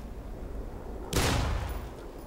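A single gunshot burst from a first-person shooter game, Black Mesa, a sharp loud crack followed by a short decaying tail, alone over faint background noise.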